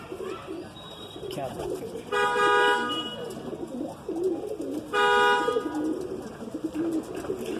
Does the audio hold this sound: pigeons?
yes